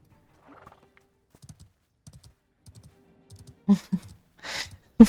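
A horse mount in the Ashes of Creation alpha video game gallops and neighs, faint soft hoof taps with light keyboard clicks, then a couple of louder hoof thuds and a brief whinny near the end.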